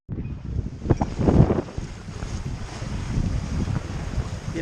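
A Nova 28 sailboat sails in a 15 knot beam wind, with gusty wind buffeting and water rushing past the hull in uneven surges, no voices.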